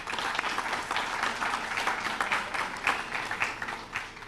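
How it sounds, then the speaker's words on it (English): An audience at a by-election candidates' debate claps steadily with dense, continuous applause that stays fairly loud for several seconds, then tapers slightly toward the end. "I'd ask you to clap for yourselves if you would"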